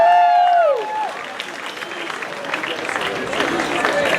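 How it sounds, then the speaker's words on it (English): An audience breaks into applause and cheering after a tonal whoop-like sound at the start. The clapping rises into a dense, lively roar from a crowd at a live show. "This wonderful audience is going to start applauding like crazy."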